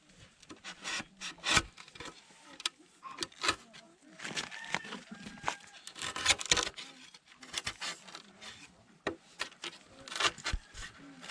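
Rough rasping and scraping as something is bored into bamboo, in uneven bursts with knocks and pauses, close by.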